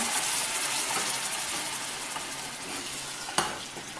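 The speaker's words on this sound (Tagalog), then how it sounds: "Yung soy sauce po, ilalagay natin dyan. Tapos yung sugar. Stir po lang natin siya." Soy sauce and sugar are stirred in a hot pan, giving a steady loud sizzle with watery bubbling and a faint scrape of the spoon near the end.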